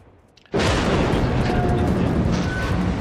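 A heavy battleship shell strikes the player's warship in World of Warships: a sudden loud explosive boom bursts out after a short quiet lead-in, then a dense roaring rumble sustains at full volume to the end.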